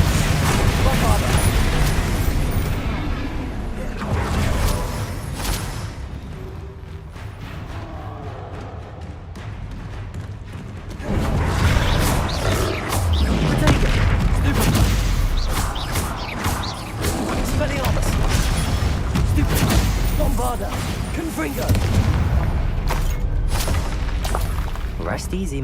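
Bombarda spell explosions in the video game Hogwarts Legacy go off as loud, booming blasts and crashes inside a dense, continuous wash of game sound, with a voice speaking at times.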